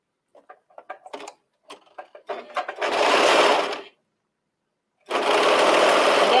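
A serger runs a seam through hairy knit fabric for a top: first scattered clicks and short stutters, then a loud close burst of fast whirring, a pause, and a second sustained run.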